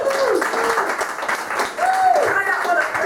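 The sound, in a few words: audience applause at comedy show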